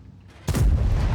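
Tank gun firing a single shot in World of Tanks from a T57 heavy, a heavy booming blast with a sharp onset, low rumbling body and sustained reverberant tail.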